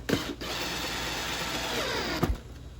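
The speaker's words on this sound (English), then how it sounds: "if you take the drill and you go kind of slow" A cordless drill turning slowly as it drives a screw to fasten a cabinet pull, giving a steady whirring mechanical drone for several seconds, with brief bumps where the bit grips and stops.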